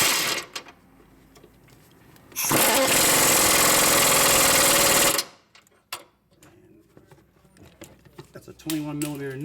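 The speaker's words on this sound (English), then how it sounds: "taking the air gun, and we used a 1/2-inch air gun" A 1/2-inch pneumatic impact wrench works on the suspension nuts of a Dodge Charger, giving one loud, sustained rattling burst of about three seconds amid quieter clanks and garage noise, with a voice briefly at the end.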